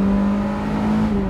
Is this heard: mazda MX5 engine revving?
yes